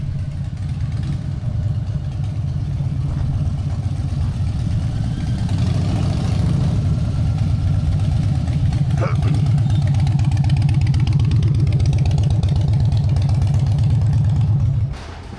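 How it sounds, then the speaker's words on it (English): Several motorcycles idle at a Myrtle Beach bike week, a steady low engine rumble running the whole time with a slight swell midway, and a person talks over it. "A few bikes."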